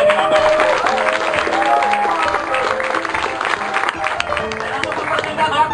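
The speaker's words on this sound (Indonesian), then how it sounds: "Beri aplaus sekali lagi." A crowd claps at an indoor gathering, a steady wash of applause lasting several seconds, with voices mixed in beneath it.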